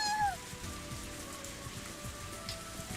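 Steady rain pours down on surfaces nearby, a dense continuous patter with a faint cat-like cry early on and occasional heavier drips, no talking.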